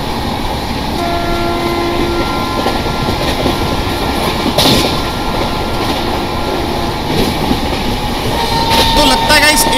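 The Saurashtra Mail train in the Train Simulator RailWorks game runs at speed past Goraguma station, with continuous rolling rail noise, clacking wheels and horn tones, while a voice talks faintly at times.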